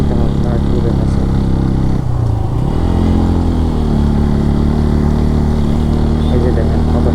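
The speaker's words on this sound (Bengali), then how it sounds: "ফার্স্ট গিয়ারে দিলে সাউন্ড বেশি হবে, কিন্তু সেকেন্ড গিয়ারে উঠলাম।" A Yamaha FZ motorcycle engine drones steadily and loud while climbing a steep mountain road to Sajek Valley in second gear, with a brief dip in pitch partway before the revs settle again.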